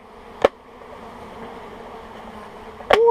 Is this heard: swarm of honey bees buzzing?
yes